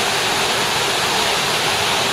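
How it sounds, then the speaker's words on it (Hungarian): Pulhapanzak waterfall in Honduras roaring steadily, a dense, unbroken rush of falling water filling the whole clip with no voices. "ez a Pulpanzák vízesés"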